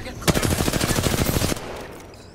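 Automatic gunfire in the Apex Legends video game: a loud, rapid burst of evenly spaced shots lasting just over a second, then fading into a quieter tail.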